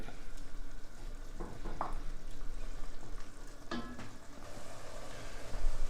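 Beef fries for bolognese with butter, olive oil, onion, carrot and celery, giving a dense, continuous sizzle close up, with a few brief stirring clicks and no voices.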